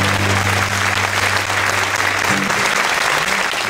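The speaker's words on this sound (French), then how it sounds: "vous pouvez d'ores et déjà vous applaudir bien fort" A theater audience at a French stand-up comedy show applauds loudly and steadily, a dense wash of clapping that fills the whole stretch, with a low tonal hum underneath.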